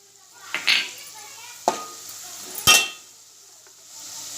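Red masala frying in a pan as turmeric goes in, a low sizzle under three distinct scraping strokes of a spoon, each a short clattering burst spaced about a second apart.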